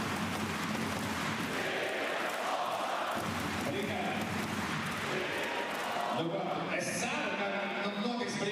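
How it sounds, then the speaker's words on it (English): A home basketball crowd in Latvia roars steadily through an arena during a FIBA World Cup 2023 qualifier against Greece, a dense continuous wall of voices with a commentator talking over it. "Home crowd chanting, Riyad Lomash"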